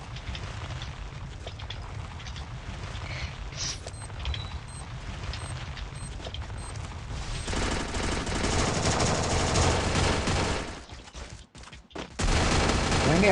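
Sniper fire in an online shooting game sounds as rapid, dense bursts of gunfire that grow louder and busier partway through, over a constant background of game noise, with a short dip before the firing resumes.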